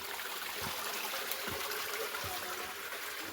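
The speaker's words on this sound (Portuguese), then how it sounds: "E essa água corre toda atrás de toda a nossa propriedade." A stream of water runs steadily behind a rural property, a constant broadband rushing and trickling that stays level and close throughout, with a few soft low thumps underneath.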